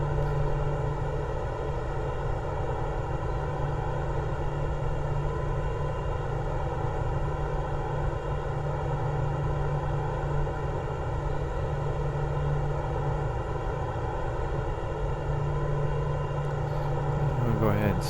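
Pilatus PC-12 turboprop climbing after takeoff in MSFS 2024, a loud, steady engine drone with strong tonal hum that holds constant throughout.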